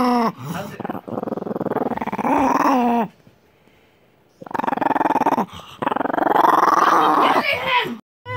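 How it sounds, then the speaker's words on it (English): A playful dog growls loudly in long rumbling bursts with yips and whimper-like rises, pausing briefly in the middle before starting again, very close and dominating the sound. "The dog was having the time of his life."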